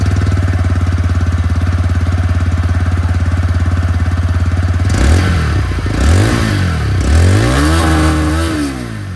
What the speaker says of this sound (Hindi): जो एग्जॉस्ट साउंड है वो भी मैं आप लोगों